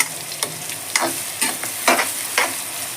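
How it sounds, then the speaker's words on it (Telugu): Curry leaves hit a pan of beans frying in oil, setting off a lively sizzle broken by sharp crackling bursts and stirring scrapes at a regular pace. "ఇప్పుడు ఇందులో కరేపాకు కూడా వేస్తాను"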